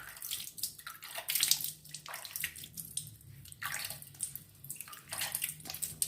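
Tap water runs over a printed sticker as it is rinsed and rubbed by hand, a steady splashing stream with uneven surges and gurgles close by, no voices.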